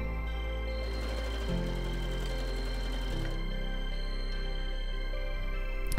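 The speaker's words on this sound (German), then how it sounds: "senke meinen Nähfuß, nähe weiter und verriegel dann wieder ganz am Ende." A sewing machine runs steadily while stitching the waistband of a skirt, a close, continuous mechanical hum with one brief pause in the middle, heard alone.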